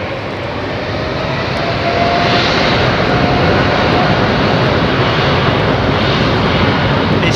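A freighter aircraft roars steadily at London Heathrow Airport in the evening, its engine noise loud and broad, swelling slightly after the first moments and holding without pause.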